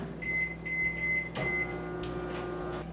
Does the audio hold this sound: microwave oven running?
yes